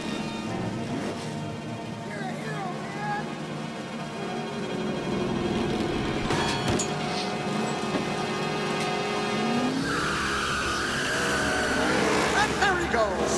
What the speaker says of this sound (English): Here we see Mater backing up in order to get distance from the ramp in order to gain speed.